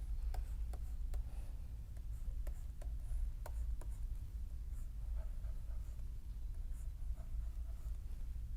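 A pen scratches across paper, drawing a circuit diagram, with sparse ticks and strokes over a steady low hum and no speech.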